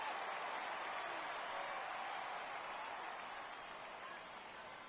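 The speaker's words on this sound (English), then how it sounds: "This crowd oohs and ahs every time this guy hits a fly ball" A baseball stadium crowd in MLB 15 The Show reacts to a fly ball, a steady broad wash of distant cheering and applause-like roar that fades slightly toward the end.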